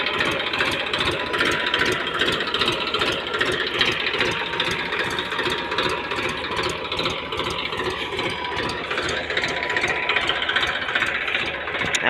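A farm tractor engine runs steadily throughout, a continuous close, loud mechanical chug with a rapid rhythmic knock, no talking over it.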